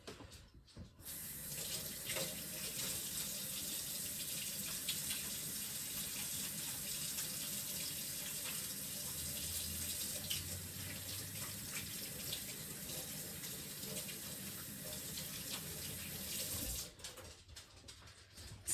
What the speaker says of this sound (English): I need to wash my hands though first.